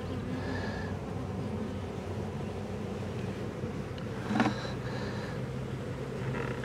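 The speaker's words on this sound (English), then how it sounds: "There are a lot of bees in this swarm." A large, heavy swarm of honeybees caught in a bucket gives a steady, low droning buzz close up, constant throughout with a brief louder rustle partway through.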